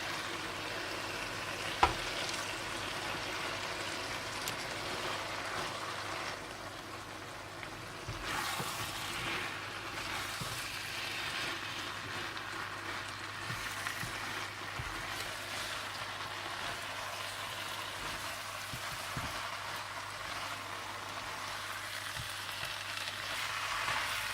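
Fenugreek leaves and green chillies sizzle with tomatoes in a pan, a steady close frying hiss lasting throughout, with occasional soft stirring knocks and no talk.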